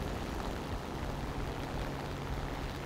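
A steady, dense engine drone from aircraft in the War Thunder combat game plays throughout at moderate level with no clear breaks.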